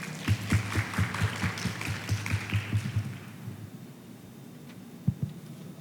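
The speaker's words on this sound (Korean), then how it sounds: "박수로 맞이해 주시기 바랍니다." An audience at a debate event applauds, a run of close, crisp claps for about three seconds that quickly thins out into near quiet with a single stray clap afterward.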